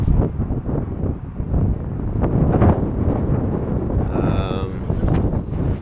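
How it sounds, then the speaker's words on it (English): A strong headwind buffets the microphone of a cyclist on a 720 km ultra-distance road race, a loud, continuous low rumble that swells and dips, with a brief tonal cry partway through. "now it's just riding into a really, really strong wind"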